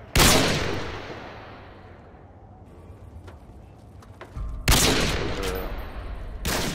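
Gunfire erupts in an online shooter game as a loud burst of rapid shots, a decaying echoing tail with scattered pops, then another heavy volley of sustained fire; no voices are heard.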